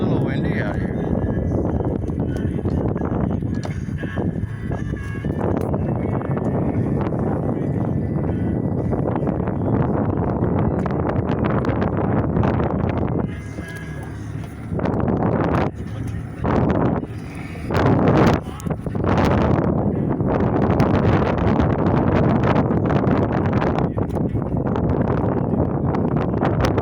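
Steady wind buffets the microphone on a boat out in the Florida Keys, a continuous loud broadband roar with brief dips and gusty bursts midway through.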